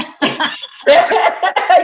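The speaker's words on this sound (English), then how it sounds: "as soon as she started saying that, I started coughing." Several harsh coughs in quick bursts from one person, close and loud, separated by short pauses.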